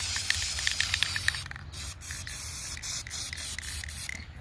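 Aerosol spray paint hissing steadily as red paint is applied to the back of a homemade shield, with a rattly pulsing start, a few brief gaps, and continuous close-up spraying.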